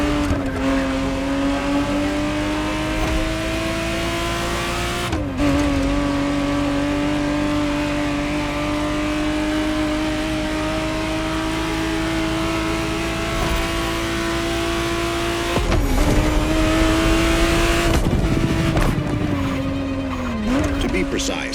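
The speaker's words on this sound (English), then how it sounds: "the exact model Motorfest has put in your hands is the 1991 re-engineered version of the Testarossa, introduced as the 512 TR" A Ferrari Testarossa 512 TR, the 1991 re-engineered model, roars steadily at high revs in The Crew Motorfest racing game, with brief gear-shift dips and tire squeal as the engine pulls on under a narrating voice.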